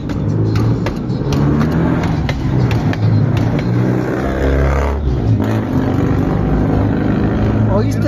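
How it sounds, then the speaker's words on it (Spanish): A Chevrolet Aveo engine and exhaust rev with a rough, droning roar that rises and falls throughout, loud and close, with people talking over it. "¿Oíste ese aveo?"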